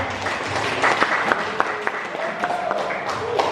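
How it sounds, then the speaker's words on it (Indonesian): Audience applause at a teachers' training event, a short burst of dense clapping from a seated crowd with a few sharper claps standing out and a voice speaking faintly underneath. "beri tepuk tangan yang meriah untuk Bu Lis dan Pak Anwar."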